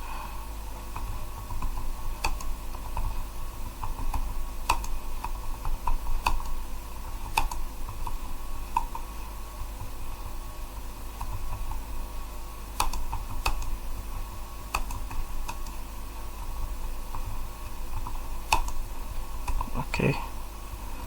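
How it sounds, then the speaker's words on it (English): Steady typing on a computer keyboard while designing a landing page in Figma, with close, continuous clicking keystrokes and occasional sharper taps across the whole stretch. "Then I can start typing."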